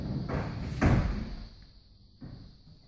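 A large built barn door on an ICF-block garage rolls and bumps along its track, giving a couple of heavy knocks and a rumbling slide, close and fairly loud, with no speech.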